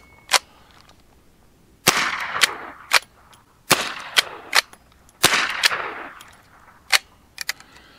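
Federal .22 LR bird and snake shotshell rounds fired in a 3-gun shooting setting, about a dozen sharp, close gunshots in uneven bursts with brief metallic clanks between, no talk.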